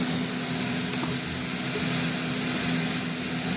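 Spice paste with ginger-garlic and a little salt fries in a pan, a steady close sizzle with a constant hum running underneath, no voices.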